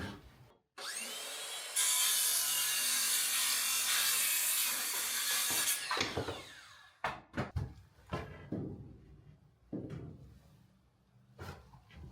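Handsaw cutting through wooden wall trim pieces for an off-grid cabin, a long steady rasping stretch followed by several short separate strokes and knocks, close and fairly loud.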